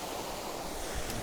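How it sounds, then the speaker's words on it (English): Water pours steadily over a canal overflow where the canal ends beside a stream in Clydach. It makes a continuous broad rushing wash, fairly soft and even throughout, with no voices. "Here there's an overflow for the canal."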